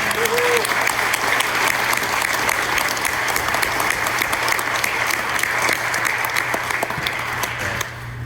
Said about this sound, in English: round of applause for my wife